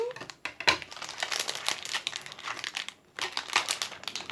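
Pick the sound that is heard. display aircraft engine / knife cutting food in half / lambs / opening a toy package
opening a toy package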